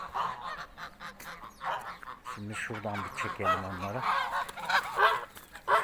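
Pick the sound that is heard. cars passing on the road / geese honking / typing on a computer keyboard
geese honking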